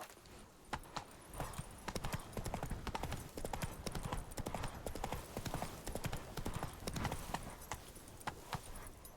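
Geralt's horse Roach gallops in The Witcher 3, a brisk, steady clip-clop of hooves pounding close and loud in an unbroken rhythm, with faint voices now and then.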